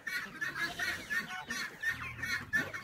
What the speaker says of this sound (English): I think I have a couple chickens now.